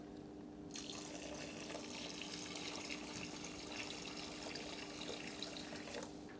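Salt water pours steadily onto aquarium sand in a continuous rushing splash, fairly close and even, with a faint low hum beneath.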